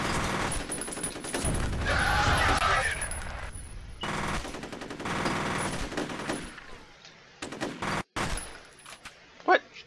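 Rapid enemy automatic gunfire in the shooter game F.E.A.R., dense sustained bursts of shots that thin out into scattered individual cracks, loud and close, with a voice speaking over parts of it.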